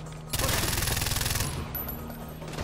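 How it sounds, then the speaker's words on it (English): Heavy machine gun fire in Far Cry 4, a loud, rapid burst of evenly paced rounds lasting just over a second, followed by a ringing mechanical tail and quieter ambience. "I'm on the heavy MG."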